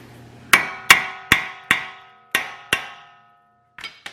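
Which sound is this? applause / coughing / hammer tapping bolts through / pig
hammer tapping bolts through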